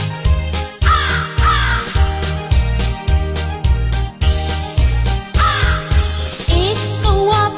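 A crow caws repeatedly in an even, regular rhythm, loud and close, over a steady musical backing in a children's song about a thirsty crow.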